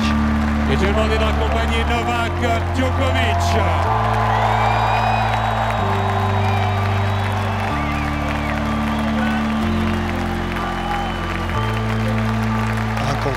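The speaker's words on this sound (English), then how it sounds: "he goes out and he gets the accolades from the crowd and then points to Djokovic" A tennis crowd at the Roland-Garros men's semi-final applauds and cheers Nadal, loud sustained clapping with whoops over a steady low musical drone, with no pauses throughout.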